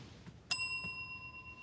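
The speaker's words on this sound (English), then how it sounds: "I want you to ding your bell when you hear anything you might deem inappropriate" A single bright desk bell ding, struck once and left to ring out with a clear, lingering metallic tone over quiet room noise.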